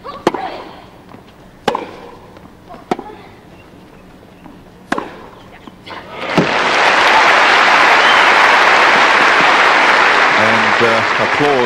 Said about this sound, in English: Applause there from Monica's father for that great approach shot winner from Novotna.